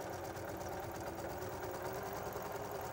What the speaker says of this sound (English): So go ahead and machine stitch this